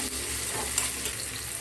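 Chopped tomato dropped into a pan of small onions frying in oil, giving a steady close sizzle with light crackling and a faint stirring scrape.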